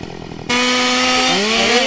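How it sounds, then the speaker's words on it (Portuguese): A chainsaw from a remastered sound pack for the GTA San Andreas video game starts up abruptly and runs loud and steady, its engine pitch shifting slightly as it revs, alone with no talk. "Vamos ver aqui a motosserra"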